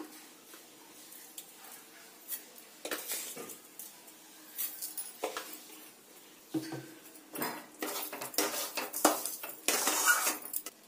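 Palm cake batter with rice being stirred in a pan over low heat, repeated scraping and clinking of a utensil against the metal in irregular bursts, close and fairly quiet, growing busier toward the end.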